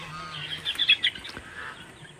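Several faint, high-pitched peeps from newly hatched turkey chicks come in a short irregular cluster over a low background hum.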